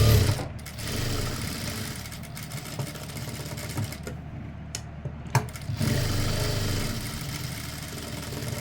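A sewing machine stitching the shoulder seam of a lined chudithar hums steadily, with a few brief pauses and clicks in between and no talking.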